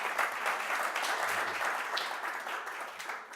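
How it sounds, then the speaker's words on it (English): An audience at a Pancake Breakfast tech meetup breaks into a steady round of applause, moderately loud and continuous, fading slightly toward the end. "Give a big round of applause."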